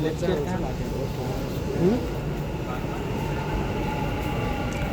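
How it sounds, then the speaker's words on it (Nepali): A metro train rumbles steadily through a station with a low, continuous roar, and indistinct voices murmur in the background. "हाम्रो मेट्रो आइसकेको छ"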